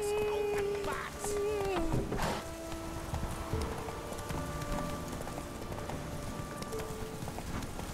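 Roach, the horse in The Witcher 3, gallops with a quick rhythmic clip-clop of hooves, close and clear, while a voice speaks over the start and game music and ambience play beneath.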